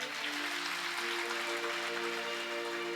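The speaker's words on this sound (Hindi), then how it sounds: "एक बार यजमान जी के लिए जोरदार ताली बजाइए" Dense, steady applause from a large audience at a Ram Katha religious discourse fills the whole moment, with a faint tonal hum beneath the clapping.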